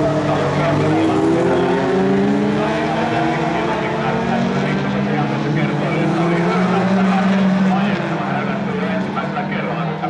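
A rally-style folk race car is driven hard on an asphalt circuit at a 2009 Jokkis event. Its engine drones continuously, the pitch climbing and dropping through gear changes, loud and unbroken from start to finish.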